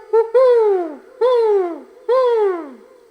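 A human voice imitates a great horned owl's hoot three times, each call a wavering, falling tone followed by a short pause.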